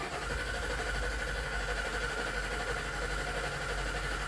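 A Ford 5.4L engine in a 1997 Ford E-150 Econoline van, running with low oil pressure, idles in a steady, dense, unbroken drone heard up close throughout, with no voices.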